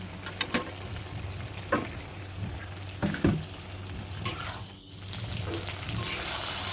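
Papaya pieces stirred into a thick simmering mutton curry, giving a steady low sizzle with scattered clinks and scraping knocks close up, and no talking.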